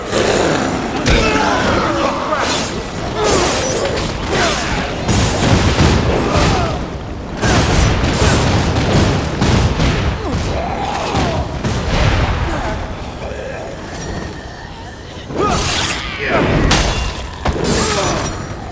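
Ultimate Grim Reaper weapon from Dead Rising 3 firing in repeated heavy blasts and crashing bursts, loud and dense throughout, with short lulls between volleys.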